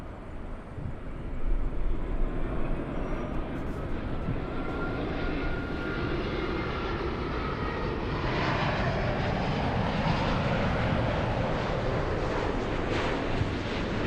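An airplane takes off from runway 24 left, its engine roar swelling from a low rumble into a loud, sustained broadband rush that holds steady, with no voices.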